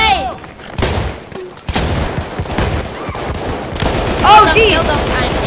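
Bursts of automatic gunfire and explosions in the Battlefield 1 first-person shooter, rapid overlapping shots in several volleys, loud and close, with brief voices in between.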